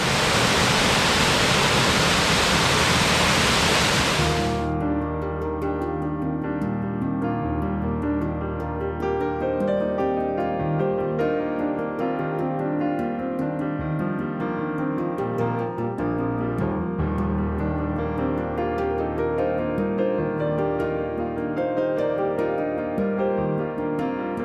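A waterfall in the New River Gorge area pours as a loud, steady broadband rush for about four seconds, then gives way to sustained tonal music for the rest.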